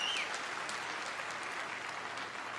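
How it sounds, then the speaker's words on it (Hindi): Enthusiastic audience applause at a direct selling event: dense, continuous clapping from a large crowd, steady and loud for the whole stretch. "एक जोरदार तालियां हम सबके महागुरु डॉक्टर संजीव कुमार गुरु जी के लिए।"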